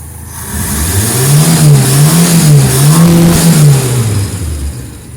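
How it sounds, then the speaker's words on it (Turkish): A Ford Taunus engine idles on LPG, a steady close hum that rises and falls gently in pitch a few times before settling, smooth and even throughout with no talk over it. "Araç şu an LPG'de çalışıyor."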